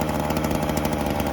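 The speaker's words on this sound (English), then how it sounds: "We're just gonna keep at it, keep on drilling." Power drill running in a shop, a loud, close, steady motor whine with a rapid buzzing texture throughout one short continuous burst.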